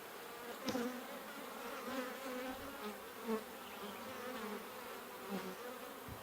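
Honey bees buzzing around an open horizontal beehive during a hive split, a steady close swarm drone with occasional louder passes near the microphone.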